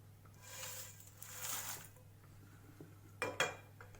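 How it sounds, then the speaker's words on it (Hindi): Whole spices being dry-roasted in a pan for garam masala, with soft scraping and stirring sounds and occasional sharp clinks of the utensil against the pan, faint and close, no talking. "इसे भी हम अच्छे से भून लेते हैं 2-3 मिनट के लिए।"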